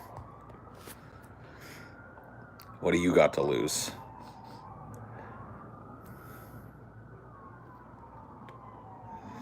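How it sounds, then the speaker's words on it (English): A distant ambulance siren wails and sweeps in rising and falling tones beneath someone speaking, with a brief louder burst of noise partway through. "That sounds like an ambulance siren."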